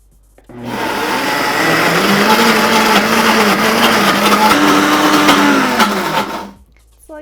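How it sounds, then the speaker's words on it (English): A blender starts up and roars loudly for about six seconds, its whining pitch shifting slightly as it churns, then cuts off abruptly. "just start up your blender"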